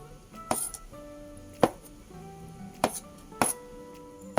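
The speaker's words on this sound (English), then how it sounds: "For the fish ball, we cut into half." A knife chops through fish balls on a cutting board, halving them: four sharp, separate knocks spaced a second or so apart, close and fairly quiet over a faint hum.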